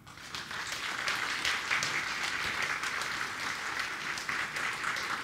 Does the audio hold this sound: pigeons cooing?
no